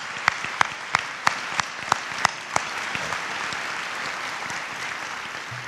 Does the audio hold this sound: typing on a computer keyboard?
no